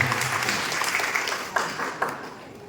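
An audience claps together at a care home gathering, a dense, even patter of many hands that stays level for a few seconds, with no voices over it.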